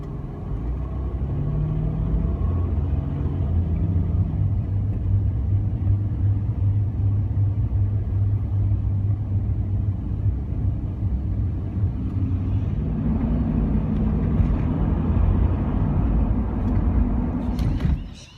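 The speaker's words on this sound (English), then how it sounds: "I'm not moving very fast, and I'm on the freeway. This is what is known as Sydney peak hour" From inside a car crawling through slow Sydney peak-hour freeway traffic, a loud, steady road rumble and engine drone carry on unbroken, swelling slightly near the end before cutting off.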